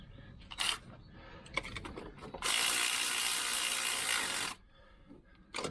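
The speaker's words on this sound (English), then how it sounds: "because I'm lazy, I'm going to use my electric ratchet" An electric ratchet winds in bolts during a catalytic converter replacement on a VW Polo 9N. A few short clicks come first, then one loud, continuous whirring burst of about two seconds, up close.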